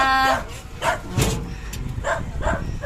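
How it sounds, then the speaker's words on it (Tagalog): Held by an elderly man at an anti-rabies vaccination drive, a dog barks in several short, spaced bursts, close and fairly loud over background noise. "Tumatahol kasi may kausap si lolo niya."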